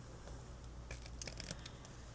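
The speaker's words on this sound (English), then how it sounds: "You want to take your scissor, aim it up, and cut at an angle" Scissors snip through ribbon at an angle while a loop bow is being made for a wreath, giving a few quick, close crisp cuts and light rustling, with no voices.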